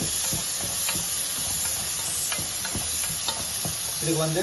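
Spiced food seasoned with tandoori powder is stirred in a hot pan, a steady sizzle and hiss running throughout with repeated scraping strokes, close and loud, and a brief snatch of speech near the end.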